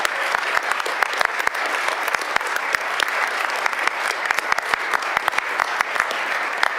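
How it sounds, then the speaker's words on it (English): Audience applause for young students in a first responder exploration program at a Kansas City state of the city address, dense steady clapping with sharp individual claps throughout, loud and continuous without talk. "Let's give a round of applause for our young people."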